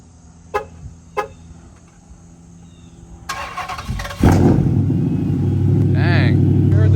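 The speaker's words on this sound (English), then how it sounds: "but here's our cold start." An SRT car's cold start opens with a couple of sharp pops, then the starter cranks and the engine catches into a loud, sustained, rumbling high idle.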